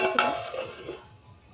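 Chicken being stirred in a metal pot with a utensil: a sharp clink of metal against metal at the start, followed by scraping, stirring sounds that fade to quiet by the end, with no talk.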